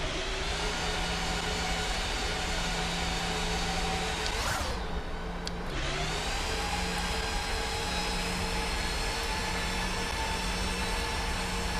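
Landing gear lowering on a Boeing 737-800 in the Prepar3D flight simulator during final approach, a brief shifting thump and whoosh partway through over a steady, loud cockpit engine drone.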